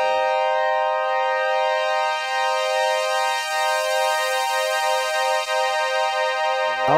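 Doepfer modular VCOs, four oscillators with modulation level raised together through an A135-2 module, produce a loud, steady harmonic drone with wavering, siren-like pitch modulation, continuous and alone.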